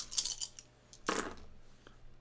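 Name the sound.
dice rolling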